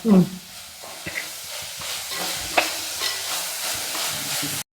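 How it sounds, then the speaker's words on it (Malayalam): A masala with turmeric powder is sautéed in a pan for a Kerala fish curry: a soft, steady sizzle with scraping stirs and a sharp clink at the start, then an abrupt stop. "മഞ്ഞൾപ്പൊടിയും ചേർത്തിട്ട് ഒന്ന് വഴണ്ട് വരട്ടെ"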